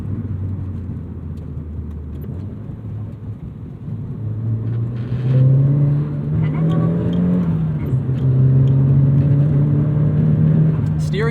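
2002 Nissan Silvia S15 Spec-R engine pulling through the gears, a steady drone that rises in pitch as the car accelerates from inside the cabin, with someone talking over it.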